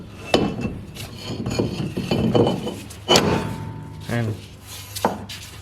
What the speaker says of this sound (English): So we have to put the brake drum in it